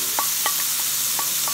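Curry paste for a Thai massaman curry frying in warmed oil, a steady broadband sizzle with a few soft stirring taps spaced through it, close and fairly loud, no talking.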